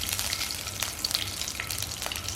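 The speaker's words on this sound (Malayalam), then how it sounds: "നെയ്യ് ഇട്ട് കൊടുത്തു." Ghee heating in a pan for roasting vermicelli gives a steady close crackling sizzle with scattered pops, continuous and fairly quiet with no talking.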